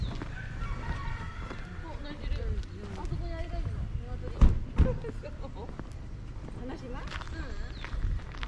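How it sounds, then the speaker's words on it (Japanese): A rooster crows at Takeda Shrine in Kofu, its drawn-out call rising over outdoor ambience while a person talks nearby, with a few sharp knocks midway. "聞こえてるかな、皆さん。 鶏の声がね"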